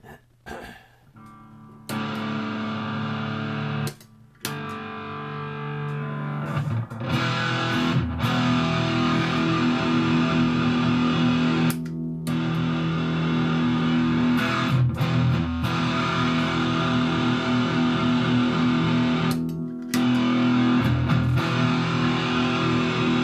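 Electric guitar through a RAT distortion pedal set to full distortion plays heavily distorted sustained low chords and riffs, thick and fuzzy, with brief gaps between strums; loud and close with no talking.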